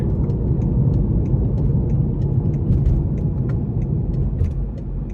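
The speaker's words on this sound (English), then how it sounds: "So I'm gonna put it in a sport mode now. And we're gonna try this out. So we're gonna give it a little pull getting on the interstate here." A 2017 BMW 530i in sport mode accelerates up an interstate on-ramp, a steady muted engine hum and road rumble heard from inside the cabin, continuous and fairly quiet, with no one talking.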